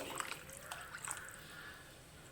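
Water mixed into a coconut milk rasam in a kitchen, heard as soft faint dripping and liquid splashes over a quiet background, with no talking.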